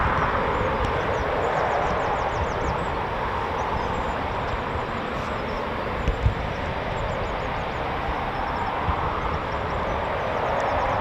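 A Eurofighter Typhoon FGR4 jet departs from an RAF station with a broad, sustained engine roar that holds steady and loud throughout, with a few faint clicks and a small knock over it.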